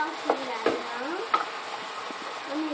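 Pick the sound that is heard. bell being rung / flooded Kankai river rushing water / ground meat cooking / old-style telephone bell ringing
ground meat cooking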